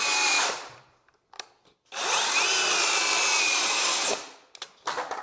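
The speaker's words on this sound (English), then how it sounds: "Let's check out the 7¼ inch Ryobi saw." A Ryobi 7¼ inch circular saw rips through wood in two loud, sustained bursts, each with a whining motor and a rough cutting rasp, followed by brief spin-down noises and short clatters, with no talking.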